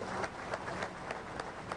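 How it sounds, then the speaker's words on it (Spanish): Audience applause for Rivas Amílcar at a Venezuelan armed forces gathering, a muffled, moderate wash of crowd clapping with a few more distinct claps, continuous and fairly distant. "Primero vamos a darle un aplauso al compañero Rivas Amílcar."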